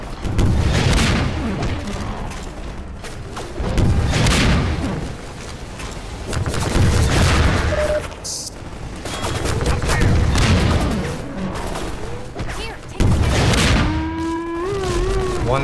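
Repeated rocket launcher blasts and heavy explosions from the first-person shooter Half-Life 2, loud booming bursts recurring every few seconds over about fifteen seconds, with some gunfire mixed in.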